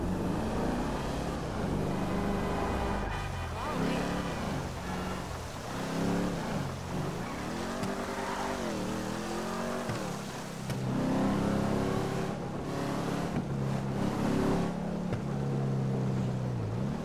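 Car engine and exhaust in GTA 5 Online with an aftermarket exhaust fitted, revving up and down repeatedly with rising and falling pitch sweeps and gear-change dips, steady and loud throughout with no voices.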